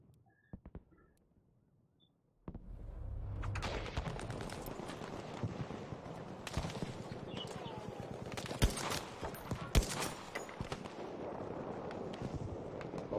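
A Battlefield V battle where the Selbstlader 1906 semi-auto sniper rifle is fired: after a near-silent start, heavy sustained gunfire and crackling shots break out and keep going, with sharper close cracks standing out.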